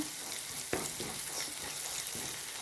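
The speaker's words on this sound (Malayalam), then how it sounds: "മല്ലിപ്പൊടി, മുളക് പൊടി ഇതൊക്കെ നമുക്ക് ചേർത്ത് കൊടുക്കാം. ഇതൊന്ന് മൂത്ത് വരുന്നത് വരെ വെയിറ്റ് ചെയ്യാം." Coriander and chili powder sizzle and fry in oil in a pan with onions, shallots and green chilies for a Kerala sardine curry, a steady close crackle with a few soft stirring knocks.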